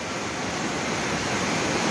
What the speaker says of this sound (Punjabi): ਮੀਂਹ ਇੰਨਾ ਮੀਂਹ ਤੇ ਇੰਨਾ ਪਾਣੀ